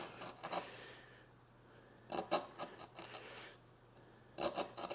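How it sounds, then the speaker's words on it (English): A hand tool shaves wood to cut a curve on a simple display shelf, making short rasping strokes in three bursts separated by quiet pauses, close and fairly soft. "So you're just kind of shaving it back a little bit to make that curve."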